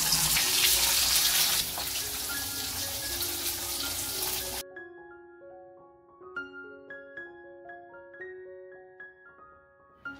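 Dishes are washed under a running kitchen tap in a home, a loud, steady gush of water for several seconds that then cuts off and gives way to light plucked music.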